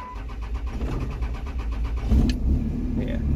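A truck engine runs roughly, misfiring on one cylinder with an uneven, lumpy idle and a brief rev, close by, while a person speaks over it.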